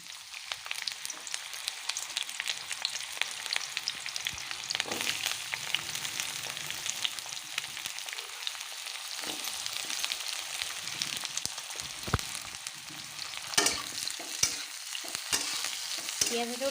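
Onions frying in mustard oil for a Sunday chicken curry, a steady close sizzle with scraping stirs and occasional sharper clatters, running continuously with no talk.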